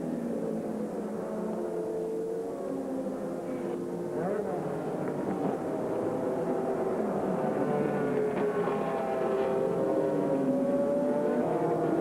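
Sports prototype race cars at a 2001 American Le Mans Series race: continuous engine roar with rising and falling pitch as cars accelerate and pass, heard at a distance under steady broadcast commentary.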